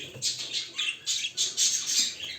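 Pet birds in a new cage with a nest give repeated sharp squawks and chirps in quick bursts, close and fairly loud, with no one talking.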